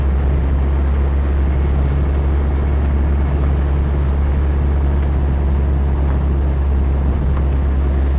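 A Land Rover 110 County Station Wagon with a reconditioned 2.5-litre turbodiesel idles nearby. Its loud, steady, low rumble continues unbroken for the whole stretch, with no voices over it.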